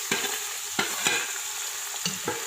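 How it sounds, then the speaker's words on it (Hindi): Tomato, nihari masala, salt, red chili powder, ground ginger, fennel and garlic-ginger paste fry in a pan for beef nihari, with a bright sizzle broken by repeated scraping stirs, close and with no talking. "अब हम इसको अच्छे से भून लेंगे।"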